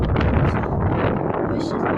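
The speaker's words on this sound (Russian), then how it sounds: "Видите, что идет ветер и очень громко шумит." Strong gusty wind buffets the microphone outdoors during a walk with a dog, a loud continuous low rumbling roar that fills the whole clip with fluttering surges.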